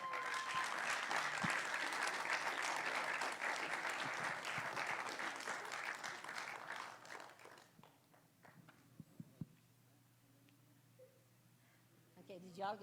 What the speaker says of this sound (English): Just one more round of applause for everybody